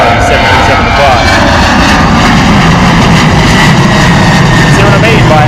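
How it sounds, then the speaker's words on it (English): A Jet2 Boeing 737 taking off from Bristol Airport on a hot day, a loud continuous jet engine roar that stays at full power throughout. "how much longer it takes for those Boeing 737s to rotate and actually get up off the ground"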